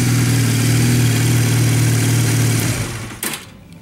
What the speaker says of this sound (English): Factory dual exhaust sounds awesome.